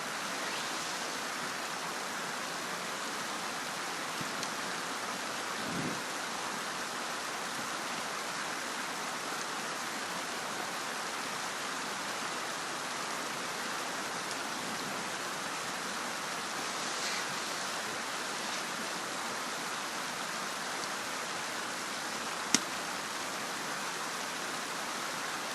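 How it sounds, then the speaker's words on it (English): Ice rain patters steadily on a hot tent during a winter camping night, a dense even hiss close overhead with a couple of faint knocks, no voices. "the ice rain is still coming."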